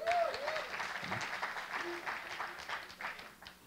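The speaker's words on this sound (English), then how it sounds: "Married, clap your hands." Faint, scattered clapping from part of a comedy show audience at a benefit event, thin and distant with some voices and a brief tonal sound mixed in.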